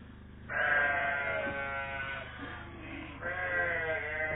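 Chios ewes waiting to be milked let out two loud, drawn-out bleats close by, one after the other, over a low background rumble.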